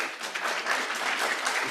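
An audience at an innovation summit breaks into steady applause, a dense wash of many hands clapping at once that holds evenly from start to finish with no voices on top.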